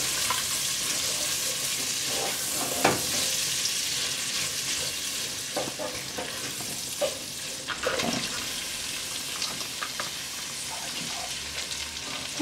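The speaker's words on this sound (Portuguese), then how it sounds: "Agora eu coloquei a cebola para fritar aqui junto com a linguiça" Onion frying together with calabresa sausage and garlic in a pan: a loud, steady sizzle with crackling pops and occasional stirring scrapes throughout.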